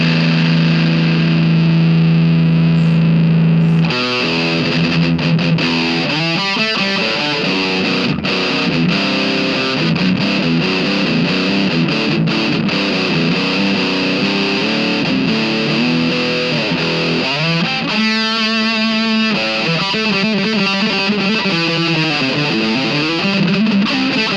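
Heavily distorted electric guitar plays sustained chords and riffs through an amp, loud and saturated, with a held note opening before the playing begins.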